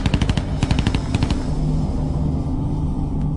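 A close, loud burst of machine-gun fire, rapid repeated cracks in two clusters over a rumbling low roar that lingers and fades after the shooting stops, during the SAS storming of the Iranian Embassy siege.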